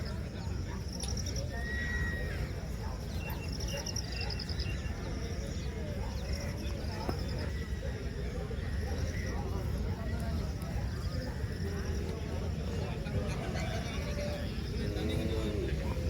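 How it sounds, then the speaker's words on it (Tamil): At a busy market by a temple in Anthiyur, horse carts and bullock carts gather as horses neigh and whinny while hooves clip-clop steadily beneath a constant crowd babble and talk. "மாட்டு வண்டி குதிரை வண்டி"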